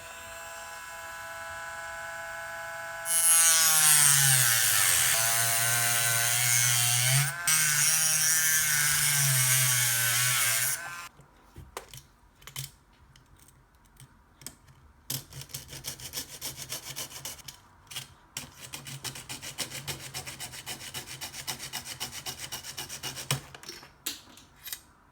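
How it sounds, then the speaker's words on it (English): A Dremel rotary tool cuts into a Tamiya Mini 4WD AR plastic chassis. A loud, continuous high-pitched whining grind runs for about eight seconds, then gives way to quieter intermittent scraping and buzzing bursts close by. "gonna use a Dremel to cut my chassis"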